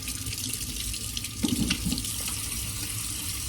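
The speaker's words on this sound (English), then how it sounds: "let me wash my hands real quick" Hands are washed under a running kitchen tap, a steady close rush of water with brief splashing as the hands move through the stream.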